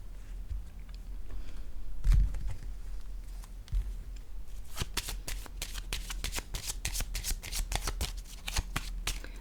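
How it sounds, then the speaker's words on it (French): A deck of playing cards is shuffled and drawn, first a soft thump, then a long, close run of rapid riffling flicks that grows busier toward the end. "Je vais piger une autre carte."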